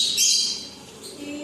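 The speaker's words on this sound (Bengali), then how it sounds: "এখানে পাখি রয়েছে বলে পাখি ডাকছে প্রচুর" Many birds call near an outdoor yoga class, giving a short burst of bright, high chirps and tweets at moderate loudness with no talk over them.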